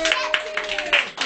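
A small family group claps hands at a home gathering, a quick run of uneven, close claps with a voice and adult talk mixed in.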